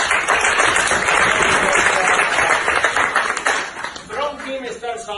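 A conference crowd bursts into loud, dense applause that fills the room, then thins as a voice begins speaking near the end.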